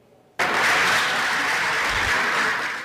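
Legislators in the plenary chamber of the legislature applaud, most of them standing. The loud, dense clapping bursts in suddenly and holds steady for a few seconds, with no voices.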